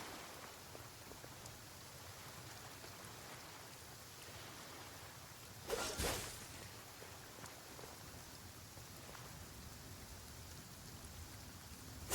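Soft, even rainfall hisses in the video game Genshin Impact, faint and continuous, with a brief louder splash or burst near the middle.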